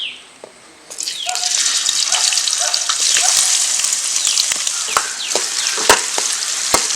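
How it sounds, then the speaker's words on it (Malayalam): Ginger hits hot coconut oil with a sudden loud sizzle that settles into steady crackling and popping, with sharp spatters throughout. "നമ്മുടെ ഇഞ്ചി നല്ലപോലെ ഒന്ന് നമുക്ക് ഫ്രൈ ആക്കി എടുക്കണം"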